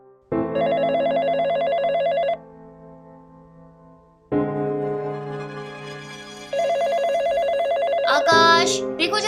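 A telephone rings at home in two long electronic bursts separated by a pause, loud and close, with no one speaking over it.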